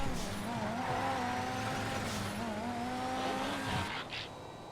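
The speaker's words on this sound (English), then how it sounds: "This actually feels really nice as a drift car." A drift car in GTA played on a FiveM racing server, with a steady engine note and a long tire squeal as it slides through a corner, alone and fairly loud, fading near the end.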